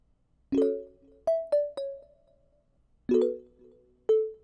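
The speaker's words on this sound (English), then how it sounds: "Then guys, we are going to add this Xylo Pluck." A Xylo Pluck synth preset taps out short, bright mallet-like notes accenting chords in an ambient plugg beat, a few sparse plucks in two small clusters, each ringing briefly and decaying into near silence.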